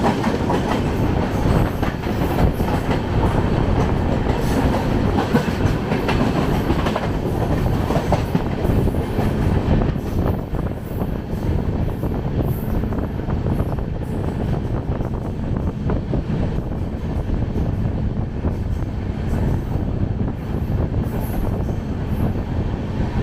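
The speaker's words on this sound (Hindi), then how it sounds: "दोस्तों ये हमारी ट्रेन क्रॉस कर रही है प्रयागराज जंक्शन, स्लोली स्किप कर रही है।" The Sampoorna Kranti Express rolls along the rails slowly past Prayagraj Junction, giving a continuous loud rumble with rhythmic clickety-clack of wheels and occasional squeals, heard from on board with no talking.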